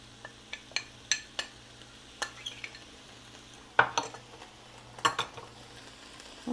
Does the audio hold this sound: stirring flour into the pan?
yes